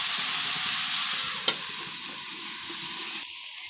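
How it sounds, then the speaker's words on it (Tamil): Vegetables for a chapati stuffing sautéing in oil, a continuous close sizzle with a few light clinks of a stirring spoon against the pan, ending in a softer hiss. "இந்த எண்ணெயிலே இந்த காய் வதங்குற அளவுக்கு வதக்கிட்டே இருங்க"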